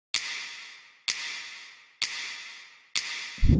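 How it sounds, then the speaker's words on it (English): Four evenly spaced finger snaps, each followed by a long reverberant tail that fades before the next, ending with a low thump. "Add some snaps with a lot of reverb on it."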